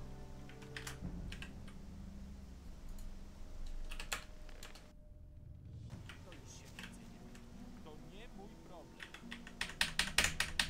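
Computer keyboard keys pressed in quick bursts of clicky taps, getting denser and louder toward the end over a steady low background hum, with a brief dropout partway through.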